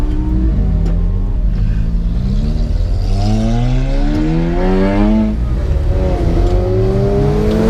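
A group of supercars, a Ferrari 458 among them, accelerates hard away on a road, loud engines revving up through the gears in overlapping rising roars heard close, with no one speaking.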